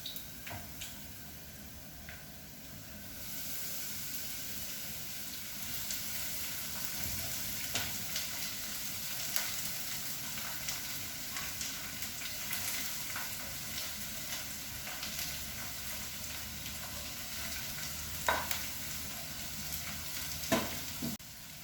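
Sliced cabbage and golden-brown onions sizzle steadily in a pan, with a soft constant hiss broken by occasional scrapes and taps of a spoon stirring, fairly quiet and close, without talk.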